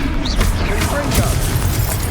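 A Confringo fire spell explodes in Hogwarts Legacy, a loud booming burst with crackling debris amid combat noise, close and dense, with a voice shouting over it.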